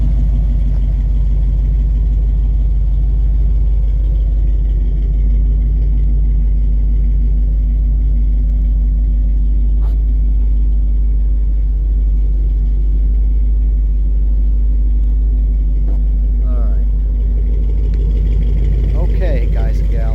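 A 1970 Chevrolet C10 long-bed pickup with a 427 big-block engine runs with a loud, steady, deep rumble that holds evenly for about twenty seconds.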